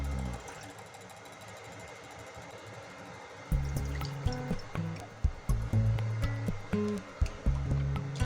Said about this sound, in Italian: L'acqua e l'alghe kombu che abbiamo appena tirato fuori dal frigo, mettiamo 250 g a testa.